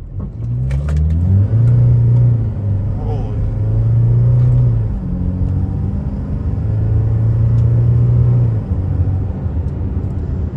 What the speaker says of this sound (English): Now we're going to do a 0 to 60 pull and just kind of see how long it takes.